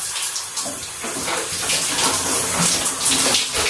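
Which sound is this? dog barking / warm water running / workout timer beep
warm water running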